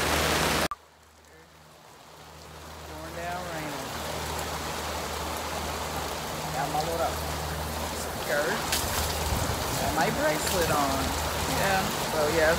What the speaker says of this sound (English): Look at it, pouring down rain.